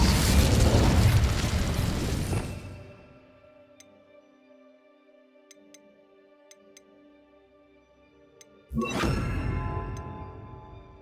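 The Incendio fire spell from Hogwarts Legacy erupts in a loud, roaring burst that fades into a quiet stretch with faint ticks, then a second whooshing blast of fire surges in near the end.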